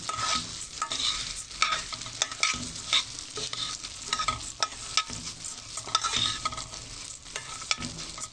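Bulgur being stirred in a frying pan with goose meat, a busy scraping and rustling of grains against the pan over a soft sizzle, close and continuous without talk.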